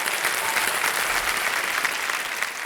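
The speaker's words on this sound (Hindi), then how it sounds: "तालियां बज जाए इनके लिए।" A studio audience on the quiz show Kaun Banega Crorepati breaks into loud, continuous applause, a dense wash of clapping that holds evenly from start to finish without any talk.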